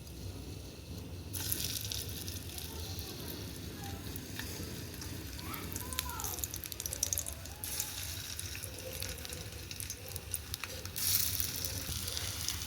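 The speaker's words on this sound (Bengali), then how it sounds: "এবার এগুলোকে একে একে ভেজে নিই" Rui fish kofta balls frying in hot oil, a steady broadband sizzle running nearly throughout after a quieter opening second, with faint clinks and stirring movements mixed in.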